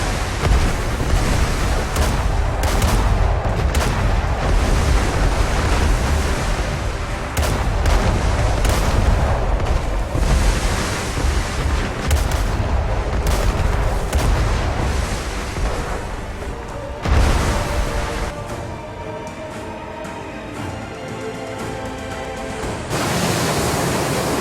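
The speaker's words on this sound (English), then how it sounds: "Use the cannon's skills to attack the pirates." Ship cannons firing on pirates in the game ArcheAge: a loud, dense barrage of booming shots over constant roaring noise like surf and battle. It eases briefly near the end, then swells again.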